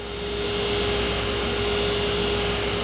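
A Henninger ZS200 center grinder, a machine in excellent condition, runs with a loud, steady high-pitched whine and an even mechanical hum that holds unchanged throughout.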